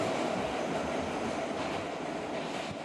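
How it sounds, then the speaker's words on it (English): A subway train rolls out of a station with a continuous loud rumble and rushing noise, steady throughout with faint rail clatter and no voices. "Hold on while the train is departing."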